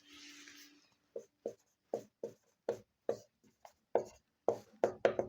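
Pen strokes scratch across paper while a class 10 math solution on circles is written out, a quick series of short, close scraping marks in an uneven rhythm with no talking.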